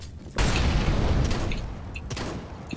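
Incendiary grenade going off in the video game CS:GO, a sudden loud booming burst that settles into a sustained roaring crackle of fire with faint clicks and pops layered over it.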